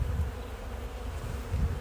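Dense, low droning hum of many honeybees buzzing close by, steady and continuous with slight swells.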